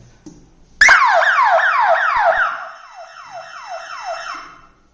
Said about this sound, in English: So now let's see how the alarm will be triggered for the panic condition